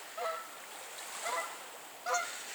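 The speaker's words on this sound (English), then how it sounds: "Hello, geese." Geese honk in three separate bursts, a couple of calls each, spaced about a second apart against a steady outdoor hiss.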